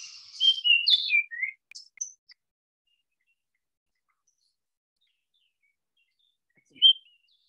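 A Baltimore Oriole gives a short series of clear, fluty whistles in the first two seconds, then silence, ending with one brief whistled note.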